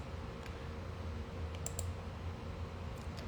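A computer mouse and keyboard click in soft, scattered taps during an online mentoring session. A few sharp clicks stand out near the middle and end over a quiet background hum.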